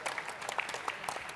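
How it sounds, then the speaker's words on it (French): A brief burst of audience applause, an even patter of clapping hands from a seated crowd at a talk on responsible handling of personal information, heard without speech. "Oh, vous voulez applaudir maintenant? Allez-y."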